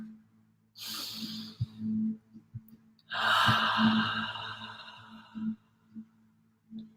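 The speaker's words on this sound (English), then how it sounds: "Taking 3 big breaths together." Two deep guided-meditation breaths, each a long airy inhale-exhale, the first shorter around the one-second mark and the second longer and fuller, close and clear over a quiet low hum with a few soft clicks.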